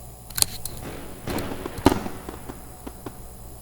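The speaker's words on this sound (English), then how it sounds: "Guess what? Fireworks." Fireworks going off in a blocky Roblox-style game, Build a Boat, with a few scattered sharp pops and crackles, the strongest near the start and middle, fading into sparse faint pops.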